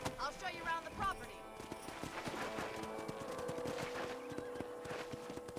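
Horse hooves in the video game Red Dead Redemption clop in a steady walking rhythm on hard ground, with people talking over them.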